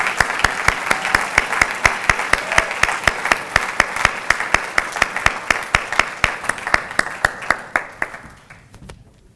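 Audience applause greeting the student president at a university convocation, dense steady clapping from a large crowd across the whole span, fading out near the end.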